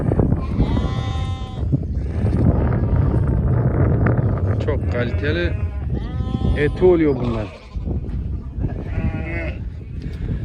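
Pasture-raised lambs that have never known a barn or hay bleat repeatedly in a flock, loud and close, with someone talking over the calls.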